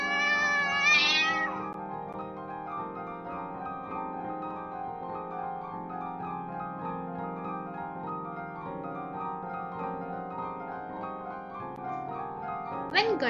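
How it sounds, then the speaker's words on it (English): A cat lets out a long, drawn-out, wavering meow that rises sharply at the start, then holds steady for several seconds and ends with a brief higher cry. "The moment Ganesha let the cat go"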